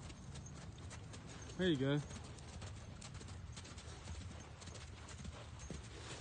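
Horse hooves loping during a riding lesson, a steady rhythmic clip-clop running throughout at moderate distance, with a person speaking briefly over it midway.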